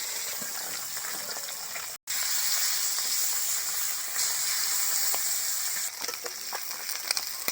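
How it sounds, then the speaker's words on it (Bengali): Pond fish fry in hot oil in a kadai, giving a close, steady bright sizzle with small crackles and pops. It is broken by a brief gap early on, and no one speaks. "তেলটা গরম হয়ে গেছে, এবার মাছগুলো ভেজে নেব।"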